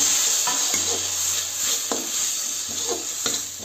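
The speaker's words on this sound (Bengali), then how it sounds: "এবার এটাকে নাড়ব।" Cabbage curry spices, garam masala and red chilli powder with a splash of water, sizzle steadily in a pan on medium flame while a spoon stirs and scrapes in a few soft, close strokes over constant hiss.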